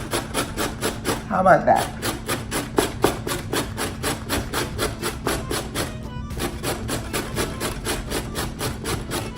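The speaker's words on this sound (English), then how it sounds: "you don't want to grate the carrot. You just want to shred it." A carrot is rubbed hard against a kitchen grater for pikliz coleslaw, making fast, even rasping strokes in a steady rhythm, close and clear, with a brief spoken remark partway through.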